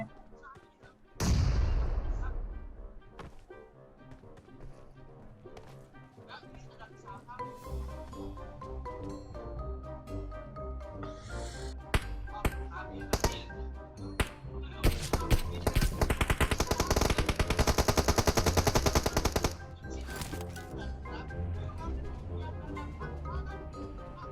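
Gunfire in PUBG Mobile: repeated bursts of automatic fire and single shots, some near and loud, others more distant, building into a long intense volley, with people talking over the action.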